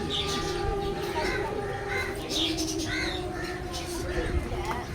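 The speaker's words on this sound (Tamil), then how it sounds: "புறாங்க." Pigeons cooing outdoors on a hot, sunny day in Velankanni, soft repeated coos rising and falling over a steady background hum, with a person talking nearby.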